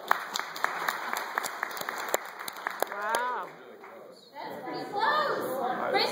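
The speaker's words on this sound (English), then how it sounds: "why don't you clap if you think Mr. Freud won, or Dr. Freud won?" Theater audience clapping to vote in a post-show talkback, scattered claps at first, then a brief lull and a murmur of crowd chatter with voices rising at the end.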